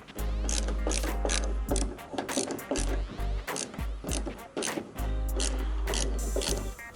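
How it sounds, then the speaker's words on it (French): Ratchet tightening screws on Bushwacker fender flares on a Jeep Cherokee XJ, with rapid repeated clicking pawl strokes in bursts and short pauses, close and fairly loud. "on va commencer à serrer."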